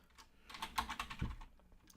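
Someone types the chmod command on a computer keyboard with a quick, faint run of close key clicks that ends in a firmer thud, as on an enter key, in a quiet room.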